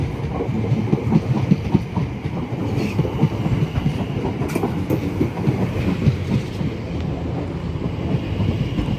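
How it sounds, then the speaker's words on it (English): A Southern service train departs Clapham Junction, with a steady close rumble of wheels and carriages and faint clickety-clack throughout, and no talking. "the slightly delayed 1422 Southern service to Littlehampton departs"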